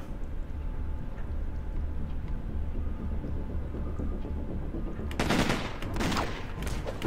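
Gunfire in the video game Dex erupts late as a short burst of several loud, rapid shots over a low, steady game ambience.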